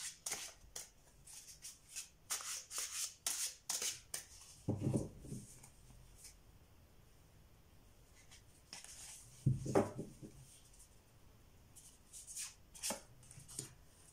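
Tarot cards are handled and drawn, with bursts of soft papery shuffling and flicking alongside a few louder slaps as cards land, separated by quiet pauses.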